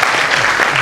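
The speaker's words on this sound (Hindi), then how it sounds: "मैं निवेदन करता हूँ एक बार जोरदार तालियों के साथ मुझे आगे" Loud audience applause at a recited poetry event about Bhagat Singh, a dense burst of close, rapid clapping that fills the whole short moment.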